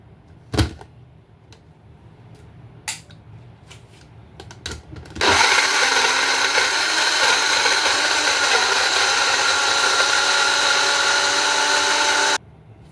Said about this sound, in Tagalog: ilagay natin yung kanyang blender